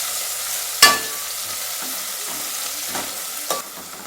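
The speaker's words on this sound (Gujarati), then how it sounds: "આપણે એક મીડિયમ સાઇઝની મોટી ડુંગળી એડ કરીશું અને આપણે આ રીતના મિક્સ કરી લઈશું" A medium-size onion sautéing in a pan for aloo matar pulao, with a steady broadband sizzle and a few sharp spoon-on-pan scrapes as it is stirred; no one talks.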